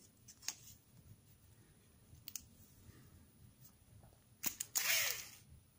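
A piece of tape is pressed onto a small electric motor setup. Scattered faint clicks lead to a brief, close rustling crackle near the end, with no talking.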